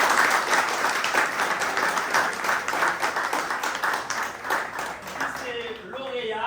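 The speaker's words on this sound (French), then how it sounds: "sous vos applaudissements" An audience at a university awards ceremony applauds a student laureate, with dense, continuous clapping that thins toward the end as a voice begins to speak.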